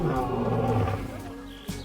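A Bengal tiger in the zoo-building game Planet Zoo gives a deep, rumbling growling roar lasting over a second, fairly loud and close, fading out before a soft thump.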